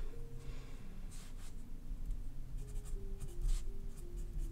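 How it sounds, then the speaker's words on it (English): A fountain pen filled with Rohrer & Klingner ink writes wet on paper, giving a soft, continuous scratching close to the ear with faint room tone underneath. "this one is writing really quite wet at the moment"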